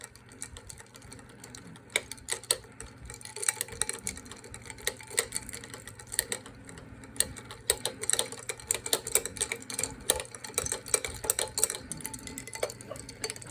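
A spoon stirring ice water in a container during a latent heat experiment, producing a continuous jangle of clinks and knocking ice for over ten seconds, close and steady, with no voices.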